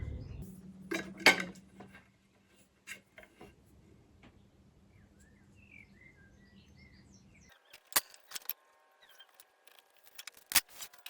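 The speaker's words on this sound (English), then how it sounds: "what I'll do is cut the tape as close to that channel as I can" Tape being cut along the fretboard channel of a Back to the Future replica guitar under construction, giving a few close, sharp snips and clicks at the start and again near the end, with quiet handling noise between.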